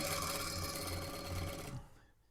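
A sewing machine runs steadily while topstitching a sleeveless sweatshirt jacket, a quiet close whir that stops abruptly near the end.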